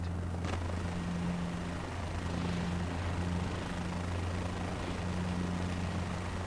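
Helicopter flying low during training in Microsoft Flight Simulator 2024, a steady loud rotor drone with a deep periodic thrum and engine whine, continuous and without talk.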